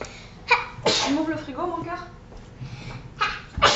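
A single sharp sneeze bursts out in a home kitchen while shortbread is being baked, with a voice speaking just before and after it.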